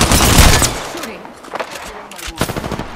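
Close, loud weapon fire in Apex Legends: a heavy opening burst followed by scattered shorter volleys of rapid shots, with quieter gaps between.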